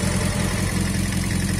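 A Kawasaki ZZR motorcycle engine idles steadily and loud up close, a constant rumbling drone with a broad whirring hiss from the running radiator fan over it.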